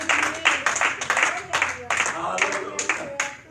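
Church congregation clapping in rhythmic bursts of applause, fairly loud and close, with voices mixed in.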